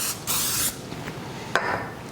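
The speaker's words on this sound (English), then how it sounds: "we're gonna go ahead and spray it with a little cooking oil" Cooking oil sprayed from a can onto layered phyllo dough, two short hissing bursts, the first about half a second long and the second briefer, close by in a quiet kitchen.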